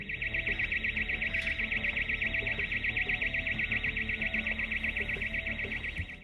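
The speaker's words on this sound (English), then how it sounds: "Initially, the only audible sound is the shrill alarm of a siren signaling an intrusion." A burglar alarm siren at a store wails steadily and loudly with a rapid pulsing warble, continuous throughout with no voices.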